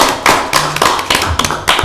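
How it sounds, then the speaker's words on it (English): A small audience at a county board of commissioners meeting claps for a colleague, sounding as a few close, loud, uneven bursts of clapping broken by short gaps rather than one continuous roar. "could we just give Becky a round of applause first?"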